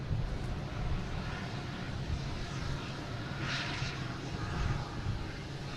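A340 airliner coming in to land on runway 4 left at Boston Logan, a steady broad jet roar with wind noise, constant and fairly loud throughout.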